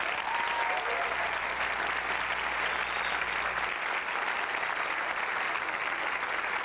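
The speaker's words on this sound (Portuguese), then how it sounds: "Salva de palmas" A studio audience on a Brazilian TV show breaks into sustained, dense applause, steady and loud throughout with no talking over it.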